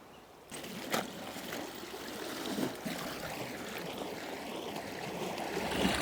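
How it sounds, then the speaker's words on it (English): Sea water swirls and washes in among rocks on a beach, a steady mid-level churning hiss with a few splashing surges, heard alone with no voices. "You can see the water's coming in through here, look. It's sort of swirling around in there quite nicely."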